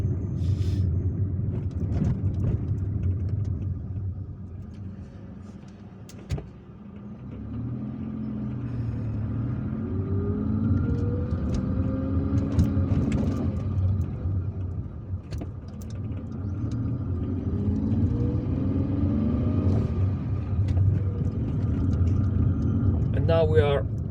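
A car drives through the streets of Algiers toward a square in the Hydra district, its engine and road rumble holding steady throughout while someone talks over it.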